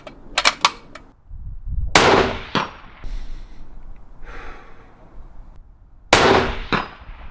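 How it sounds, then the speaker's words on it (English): Accuracy International rifle shots ring out in sharp loud cracks, each followed by a metallic clang as rounds strike a steel target around 150 yards away, with several separated impacts and bursts. "I'm going to have a couple more shots on the steel"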